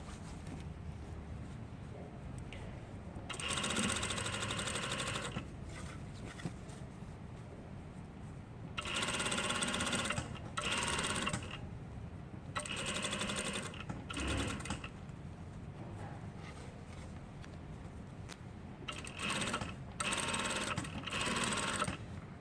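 A sewing machine stitches fabric in several separate runs of steady mechanical whirring, each lasting a second or two, with quieter handling gaps between them.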